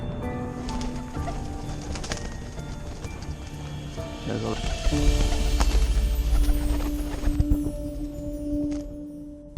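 Pigeons cooing softly in a garden or city setting, with low repeated coos blended into outdoor ambience and a passing rumble, alongside some talking.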